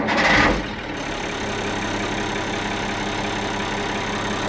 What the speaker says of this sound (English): Engine's warm and we're ready to go